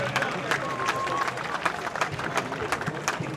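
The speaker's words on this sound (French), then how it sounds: "Est-ce qu'on peut applaudir pour le Président de la République?" A crowd at a public event in Kinshasa applauds for the President of the Republic, scattered claps over a loud murmur of voices and cheering, fairly close and busy throughout.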